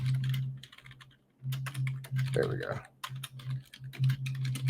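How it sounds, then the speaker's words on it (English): Bursts of quick clicking keystrokes on a computer keyboard, close and fairly quiet, in uneven runs over a steady low hum, with a person speaking briefly. "I'm just terrible at typing."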